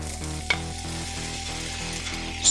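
Aromatics sweating in a pan for pork blood dinuguan, a steady close sizzle with rhythmic stirring scrapes pulsing underneath and a brief sharper clack near the end.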